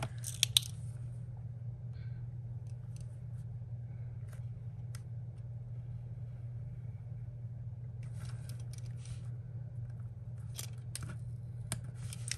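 Scissors snip paper being trimmed for a vertical Happy Planner layout, a few short crisp cuts spread across the clip over a steady low hum, with a busier cluster of snips near the end.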